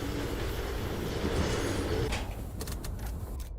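A monorail train runs along its track in the game Firmament, a loud, steady rumbling roll with rhythmic rail clatter and a sliding, whooshing hiss, ending in a few sharp clicks.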